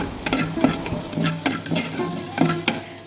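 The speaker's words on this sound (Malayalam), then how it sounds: "സവാള നന്നായിട്ട് മൂപ്പിച്ച് മാറ്റിയതിന് ശേഷം" Onions sauté in a new clay pot, a close sizzle broken by regular scraping strokes of a stirring spoon, about two or three per second.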